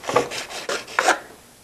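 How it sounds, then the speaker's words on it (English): A sanding block rasps back and forth along a guitar pickguard's edges in several short, close strokes, each a gritty rubbing scrape, followed by quiet. "now use my sanding block to remove any little sharp tips left by the sander"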